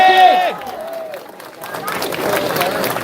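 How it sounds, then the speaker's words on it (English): At an outdoor protest rally against violence, an audience breaks into clapping and cheering after a voice trails off, a loose, moderately loud patter of applause building over the last couple of seconds. "Big hand of applause"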